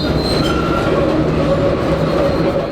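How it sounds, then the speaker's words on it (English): A vintage subway train carrying fans to Yankee Stadium for the home opener rumbles loudly and steadily along the rails, with a continuous roar, wheel noise and a faint squeal, and no talk over it. "The vintage Yankee train has been taking fans to the home opener since 1917, according to the MTA."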